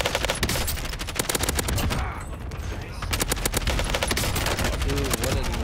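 Rapid video game gunfire, dense bursts of shots crackling almost continuously with a brief lull in the middle, loud and close.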